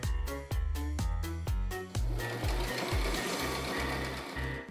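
A sewing machine stitching nylon fabric for 1920s-style lingerie runs in loud, close bursts, starting with several short rhythmic stops and starts before settling into one steady continuous run.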